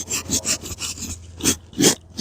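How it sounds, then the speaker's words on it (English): A sheepskin being scraped to remove fat, repeated rough rasping strokes in an uneven rhythm, close and fairly loud, with no talking. "I'm going to get this scraped off a little bit more"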